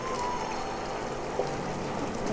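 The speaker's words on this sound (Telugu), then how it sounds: "ఇదే బీట్రూట్ నీళ్ళు ఉన్నాయి కదా, అది కలుపుతున్నాను" Beetroot water is poured into beetroot halwa cooking in a pan, making a steady, soft pouring rush with a faint hiss throughout.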